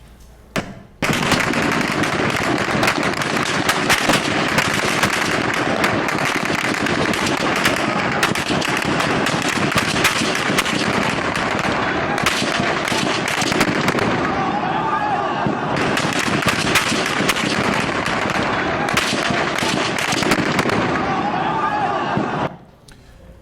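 Gunfire aimed at unarmed protesters in Egypt: dense, rapid cracks and thuds in long sustained bursts, loud and close, with a brief lull midway before stopping abruptly.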